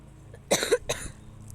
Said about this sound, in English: Oh my gosh, I'm so annoyed with my coughing